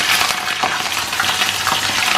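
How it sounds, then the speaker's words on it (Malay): Potato pieces frying in a pan of oil after eggplant, a dense continuous sizzle with scattered pops and crackles, close and loud throughout. "lepas dah goreng terung tadi, kita goreng ubi kentang"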